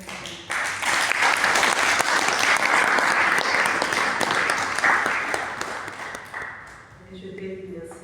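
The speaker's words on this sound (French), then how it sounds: "Je vous demande d'applaudir Madame Gisèle Kassé." An audience at a French-language ceremony bursts into applause for an honoured guest, full sustained clapping that starts abruptly and fades after about six seconds, with a voice speaking as it dies away.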